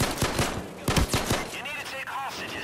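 Bursts of rapid automatic gunfire in Payday 2, loud sharp shots clustered in the first half, followed by quieter ringing tones and a fading tail.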